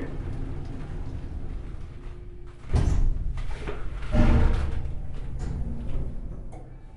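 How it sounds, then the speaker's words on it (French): Train doors closing, a pair of heavy mechanical thuds and rumbles rising from the steady hum of the carriage interior. "Fermeture des portes."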